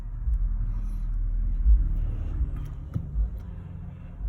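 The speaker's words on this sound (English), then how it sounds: "that was a car with a huge bass playing" A passing car playing loud bass music, heard mainly as a deep, throbbing low rumble that pulses and swells for a few seconds, with no clear melody.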